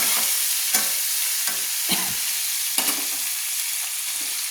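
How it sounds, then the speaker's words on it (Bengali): A cumin spice mix sizzles in a frying pan while a spatula stirs it, a constant close frying hiss broken by several sharp scraping strokes. "আবারও ভালো করে আমি নেড়ে নিচ্ছি মশলাটাকে"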